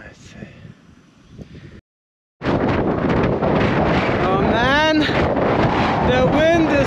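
Strong, brutal wind roars over the microphone while riding a bicycle in South Australia, a loud continuous rush that starts after a short pause, with faint tonal whistles weaving through it.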